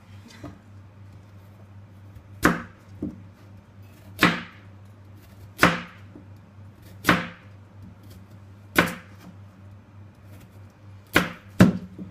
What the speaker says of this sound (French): il suffit juste en fait de couper tout en gros morceaux